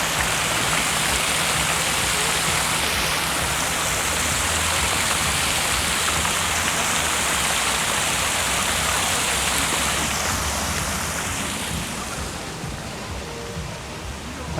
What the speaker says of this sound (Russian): Послушайте звуки воды.